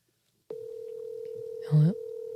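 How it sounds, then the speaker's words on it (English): Old-style telephone dialing: one steady tone holds throughout, broken by a brief louder warble partway through, close and clear with no talk over it. "Look at you dialing old school like."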